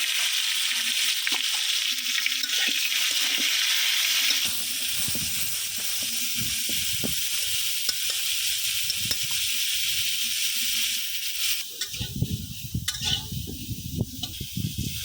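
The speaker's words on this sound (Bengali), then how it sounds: "মাছগুলো তো বাইজা উঠাইলাম বন্ধুরা এখন মাছের তেলের মধ্যে দিয়ে দিব ফুলকপিগুলা" Cauliflower pieces frying in leftover fish oil in a pan, a steady loud hiss and sizzle that eases partway through, then crackles and spatters more unevenly near the end, with no voices.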